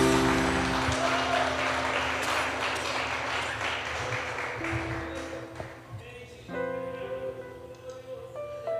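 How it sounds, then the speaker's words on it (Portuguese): A church congregation claps in praise during a worship service, a broad steady wash of applause that slowly thins and fades as sustained music or keyboard tones carry on beneath it. "Aplauda o nome do Senhor Jesus."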